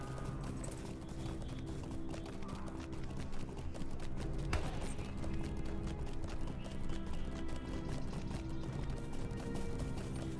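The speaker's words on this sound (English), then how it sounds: "Alright, we're getting on a horse." Horse hooves clip-clopping during a ride in a fantasy video game, a steady, rapid rhythm of hoofbeats over a busy background of game sounds, moderately loud and continuous throughout.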